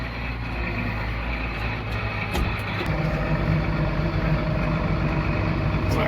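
A tractor with joystick control and foot throttle idles nearby during winter feeding, a steady low rumbling drone that holds level throughout with a few faint clanks over it.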